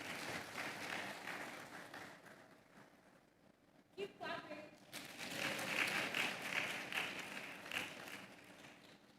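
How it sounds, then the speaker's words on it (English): An audience at a hospitality summit applauds the panelists, a broad wash of clapping that swells after a short lull and holds steady, with a voice heard briefly under it. "please join me in welcoming our moderator and panelists"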